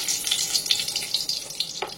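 Mustard oil sizzles and crackles steadily in a hot wok with dried red chilies and bay leaves, small pops scattered throughout, close and fairly loud.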